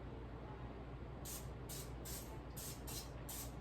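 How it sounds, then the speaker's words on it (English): Several short hissing bursts of olive or canola oil spray onto chicken, about six quick pumps in a row, over a steady background hum. "gently spray the top of your chicken with olive oil spray or canola"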